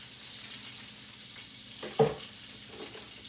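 Food fries in a skillet with butter for turkey ribs, a soft continuous sizzle with one sharper clatter near the middle, fairly quiet and without speech.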